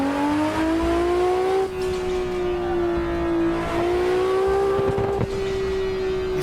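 A 1000HP car engine revving in Assetto Corsa on a highway, a loud sustained drone that rises through gears with brief dips at shifts, close and continuous with no talking.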